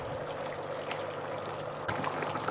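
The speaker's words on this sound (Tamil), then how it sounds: "எக்ஸ்ட்ரா கொஞ்சம் தண்ணி ஊற்றி கொஞ்சம் வேக வைங்க" Water poured into a simmering Chettinad mutton gravy in a pan, a soft continuous trickling pour that briefly swells louder near the end, close and fairly quiet, with no talk.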